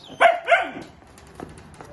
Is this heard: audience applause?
no